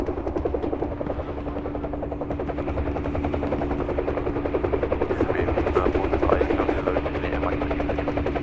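A heavy Mi-26 military helicopter in the video game Arma 3 gives a steady, close rotor drone with a constant whine that runs unbroken through the whole stretch.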